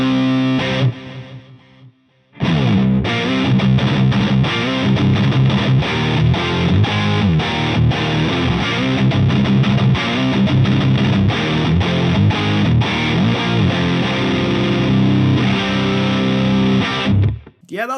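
Heavily distorted electric guitar through a Mooer GE200 Plus effects processor on a heavy preset plays a loud, chugging riff for most of the stretch, stopping abruptly near the end.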